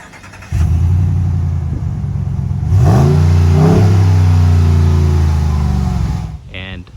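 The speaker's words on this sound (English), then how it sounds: "the exhaust sounds really good" A 2020 Ram 1500 pickup with the Black Widow package and matte black exhaust tips idles with a deep rumble, then revs up and holds a rising, throaty drone before settling back down, close and loud.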